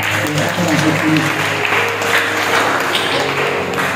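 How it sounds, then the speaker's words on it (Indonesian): A church congregation claps during a sermon, a dense, steady burst of applause lasting a few seconds, with voices mixed in. "Tepuk tangan untuk kamu."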